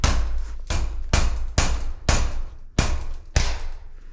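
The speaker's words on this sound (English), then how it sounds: "The biggest hammer we have." Seven heavy metallic hammer blows on a bolt during frame repair of a 1992 Gary Fisher RS 1 bicycle, in a steady rhythm, each a sharp, loud strike with a brief ringing decay, close by with no talking.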